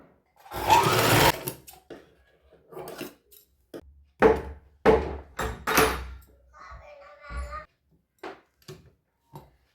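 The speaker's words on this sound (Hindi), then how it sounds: "यहाँ पे ऐसे किनारे से साइड में सिलाई लगा लेंगे।" A sewing machine stitches the side seam along the folded edge of fabric for a child's sharara outfit, heard as brief, uneven bursts of close mechanical clatter with pauses between them.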